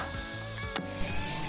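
A utensil stirs mutton bone curry in a pan, with close scraping and rubbing strokes over a soft sizzle and no voices.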